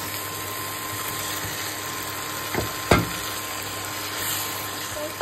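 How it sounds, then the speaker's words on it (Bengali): Fried pabda fish being sautéed in a spice paste for a spicy oil curry, a steady low sizzle running throughout with a couple of brief louder stirring knocks near the middle. "মশলার সঙ্গে আমি কষিয়ে নিব"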